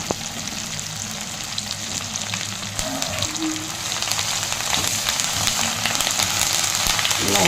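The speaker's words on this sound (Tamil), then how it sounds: "இந்த அளவுக்கு வதங்கும் போது நம்ம வந்து இந்த கீரையும் சேர்த்து அதிலே வதக்கிக்கலாங்க" Keerai greens sautéing in a pan, a steady soft sizzle with faint stirring and scraping, growing a little louder toward the end, with no talking.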